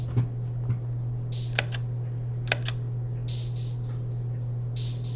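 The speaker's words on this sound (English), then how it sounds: "my favorite sound, the set whistle" A dry set whistle sample without effects gives a few short, high, steady whistle blasts, some clipped and some held longer, over a constant low hum with scattered clicks.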